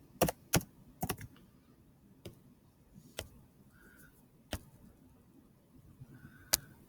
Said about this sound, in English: let's go ahead and type this in